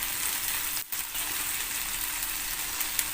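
Seasoned fried chicken sautéed briefly in a pan, a steady close sizzle that drops out for a moment, then resumes with faint scraping, no voices.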